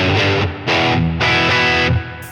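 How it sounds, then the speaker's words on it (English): Distorted electric guitar through the Horizon Drive, a high-gain drive model on a Line 6 Helix, playing loud chugging chords in a few bursts with short gaps between them and reverb ringing behind. "Let's try the Horizon drive. I think this is meant to be a stronger drive, like there's more gain to it"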